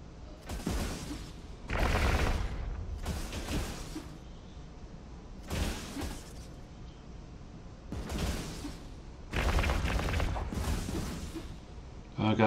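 Artillery cannons, 250mm guns on a ship in EVE Online, fire in repeated heavy volleys, with about seven booming bursts spaced a second or two apart over a low hum.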